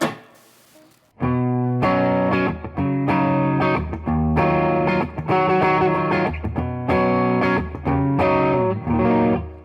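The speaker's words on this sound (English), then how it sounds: "I'm using a plate reverb because they tend to have a bit of a brightness to them" Distorted electric guitar at medium gain plays a chugging rhythmic chord pattern through a plate reverb, with a bright, lingering reverb tail, loud and sustained.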